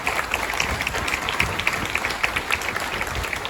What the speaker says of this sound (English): Give one more round of applause for all of our elected officials who are on the front line